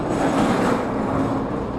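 A KTX high-speed train at Busan railway station gives off a continuous low rumble, loud and steady, with no voices.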